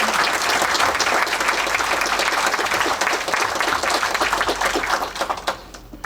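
Strong audience applause at a fiftieth-anniversary honours ceremony for fishery engineers, many hands clapping densely and steadily before thinning into scattered claps at the end.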